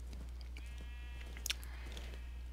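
Minecraft sheep bleat once, a wavering nasal call lasting about a second. Steady low hum and faint game sounds sit underneath, with no voices.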